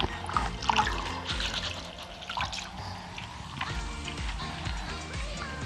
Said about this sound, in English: now that the water is a bit milkier, we're going to drain it